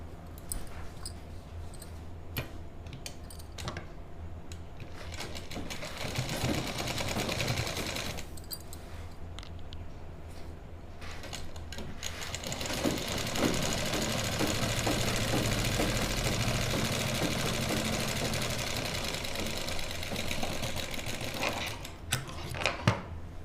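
A sewing machine stitches pleats into the back of a lined kurti, running in long steady bursts with brief pauses, close and fairly quiet, with a low motor hum under fast rhythmic needle clatter.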